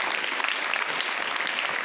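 An audience claps for a student called up to a school stage, a steady dense wash of applause throughout, fairly loud and without speech.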